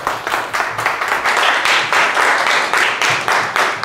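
Seminar audience at a Korean NFT event clapping to welcome a speaker to the stage, a steady, dense round of applause that stays loud from start to finish.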